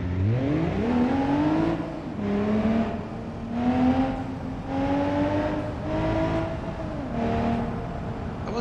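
A car engine in the BeamNG driving game revs and shifts through gears repeatedly, rising whine after whine at steady loud volume, no speech over it.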